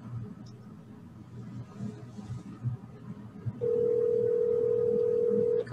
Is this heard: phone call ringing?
yes